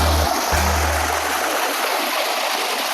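Near and loud, water pours down a small waterfall into a lake in Pondicherry, a constant hissing rush with a brief low rumble at the start.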